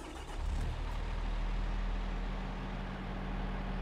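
A heavy tractor engine in Farming Simulator 22 drones steadily with a deep, low rumble, holding a constant pitch with no voices over it.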